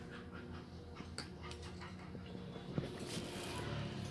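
A H'mong bobtail dog pants steadily at close range, quick rhythmic breaths running through the whole stretch, with faint handling noises and a few soft bumps alongside.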